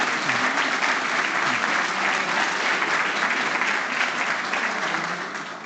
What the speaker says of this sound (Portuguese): Vamos aplaudir esse povo todo.